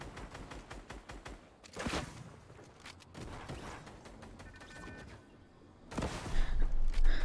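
Gunfire and rocket blasts in the video game Fortnite during a competitive trio finale, with rapid bursts of shots and a few heavy booms, moderately faint and fairly dense throughout.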